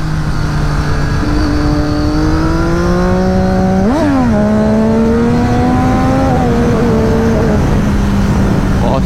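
Triumph Daytona 675 triple-cylinder motorcycle engine pulling hard in third gear, a loud steady rising drone with a sharp rev spike midway and a shift, continuous and close.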